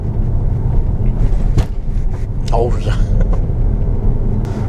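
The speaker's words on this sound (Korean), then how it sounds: "그러면 과속 방지턱 구간으로 들어왔고요" A Jeep Renegade 2.4 AWD Limited with MacPherson strut front suspension rolls over speed bumps: steady low cabin road rumble with a couple of dull thumps, while a voice exclaims briefly.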